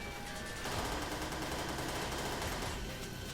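Rapid, continuous fire from dual weapons in Perfect Dark Zero, a steady dense rattle heard alone at moderate level.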